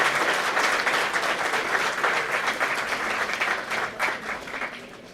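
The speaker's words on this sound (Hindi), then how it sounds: "ऐसे व्यक्ति के लिए भी जोरदार तालियां बजाइए।" Audience at a women's empowerment meet in Patna breaking into strong, sustained applause, dense clapping that holds steady for several seconds before starting to thin out.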